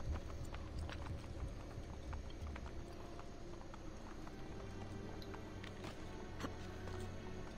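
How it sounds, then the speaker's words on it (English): Rapid clip-clop hoofbeats of a horse galloping in Assassin's Creed Brotherhood, steady and continuous over a low ambient bed, fairly close and moderately loud. "Oh, I called my horse."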